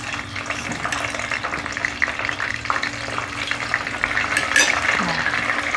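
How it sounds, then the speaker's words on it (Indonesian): Food sizzling and crackling in hot oil, a steady close frying hiss with occasional light clinks of utensils stirring the pan. "Ini juga digoreng sebentar agar tidak keras"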